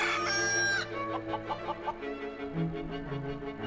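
A rooster gives the tail of a crow, followed by a rapid series of short clucks, fairly close over a steady background tone.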